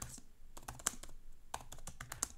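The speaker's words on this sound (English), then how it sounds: "It bottoms out really quickly though, making it feel like you're typing on a very solid surface." Quick keystrokes on a Dell XPS 13 laptop keyboard, close and fairly quiet, with short crisp clicks that bottom out firmly, coming in irregular bursts separated by brief pauses.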